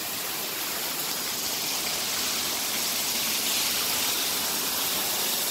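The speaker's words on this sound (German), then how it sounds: "Und wir sind am Wasserfall!" A waterfall rushes in a constant, dense roar of falling water, loud and enveloping at close range, steady from start to end with no voices.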